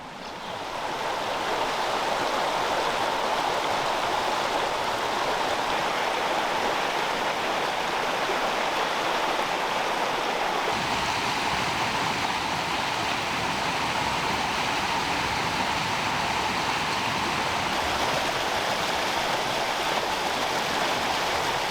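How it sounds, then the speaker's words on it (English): A fast-flowing stream rushes through the steep-sided Whitebrook valley in the Wye Valley, a steady, loud broadband wash of water running continuously with no voices. "A fast-flowing stream runs through the steep-sided valley"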